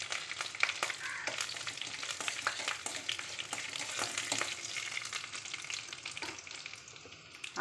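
Dried red chillies drop into spluttering tempering oil for coriander rice, giving a steady, fairly quiet crackling sizzle with scattered sharp pops and no voices.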